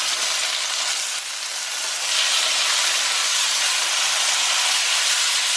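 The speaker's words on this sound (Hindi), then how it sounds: "अब मैं 4 टमाटर चॉप्ड डाल रही" Chopped tomatoes hit hot oil with frying chicken on a tawa, a loud, close, continuous sizzle and hiss that swells partway through as steam rises.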